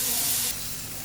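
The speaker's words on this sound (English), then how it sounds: "Just take it onto the hot grill and let that sizzle begin." Sharp, steady hiss of meat sizzling on a hot grill, loud and close, dropping slightly in intensity halfway through.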